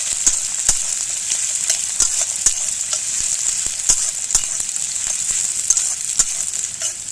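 Chopped onion and green chili sizzle in a frying pan for egg malai curry, a steady close hiss with sharp crackles and pops throughout and no talking.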